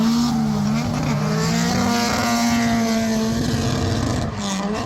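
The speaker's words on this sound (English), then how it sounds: "thank you CJ, brought a Supra that he imported from Japan" An imported JDM Toyota Supra with twin turbos sticking out of the hood idles loud and close, a steady rumbling drone with slight rises and falls in pitch.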